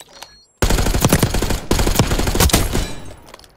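Rapid automatic gunfire shot through a wall in the video game Call of Duty Black Ops 6, loud dense bursts after a brief faint shot, pausing once before another sustained volley.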